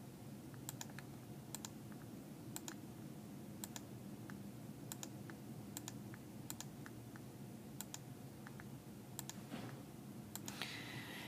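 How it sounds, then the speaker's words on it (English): Keys pressed on a Casio 9860 GII or Prizm graphing calculator while entering matrix values, a series of light irregular clicks, faint and close, over a quiet steady background hum. "I'm going to type in the values, hitting execute after each."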